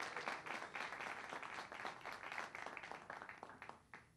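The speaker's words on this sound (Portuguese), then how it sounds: "Esse aplauso pode ser mais forte para o Senhor Jesus Cristo" A church congregation at a service in Martha's Vineyard applauds a pastor, a steady, dense patter of many hands, heard faint and distant throughout.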